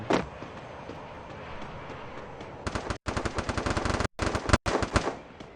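Rapid automatic gunfire from the Free Fire battle royale game breaks in after a few seconds of dull background rumble, coming as loud, dense bursts separated by brief cutoffs.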